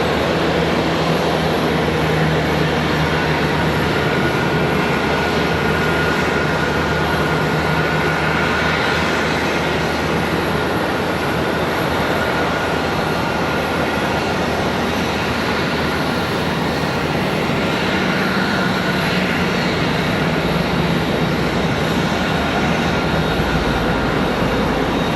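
An American Airlines Boeing 737 at Charlotte Douglas airport gives off a continuous, even jet engine drone that stays steady and moderately loud throughout, with a faint high whine riding on top and no voices.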